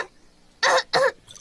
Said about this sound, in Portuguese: O Danny e a Suzy estão com a tosse do Pedro.